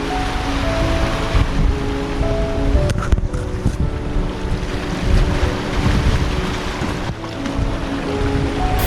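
Steady, loud wind rushes over the microphone with the low roar of ocean waves beneath at Dinard on France's Emerald Coast, continuous throughout with a faint engine-like hum.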